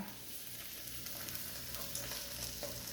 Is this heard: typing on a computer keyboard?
no